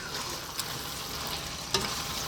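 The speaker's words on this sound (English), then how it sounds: "let's just throw this around in the pan for about 2 to 3 minutes" Cooked pasta and sausage tomato sauce are tossed in a pan over maximum heat, giving a steady close sizzle with two brief scraping clicks and no voices.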